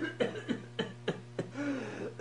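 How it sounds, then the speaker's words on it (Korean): Several short coughs in succession, heard in a quiet indoor space at moderate distance, each a brief sharp burst, with a low steady hum underneath. "저 기침 소리."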